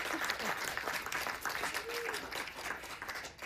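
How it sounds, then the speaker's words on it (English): Audience applause at an immersive-media awards ceremony, a steady wash of clapping that sounds somewhat distant and soft, with voices faintly mixed in. "let's take a moment and clap on that one"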